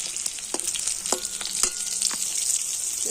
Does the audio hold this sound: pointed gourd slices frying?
yes